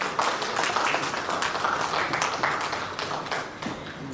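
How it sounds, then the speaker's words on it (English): Applause at a fifth-anniversary celebration of the Osun Descendants Union in Ireland, welcoming a professor to the high table: steady, dense clapping from a crowd that holds for the whole stretch. "A round of applause to Professor Oyewole."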